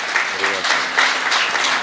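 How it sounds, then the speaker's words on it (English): Festival audience applauding at a Murugan festival hosted by a Tamil Vedic society, a loud sustained wash of many hands clapping, with a brief hum of voices near the start. "Let us give Magan another round of applause."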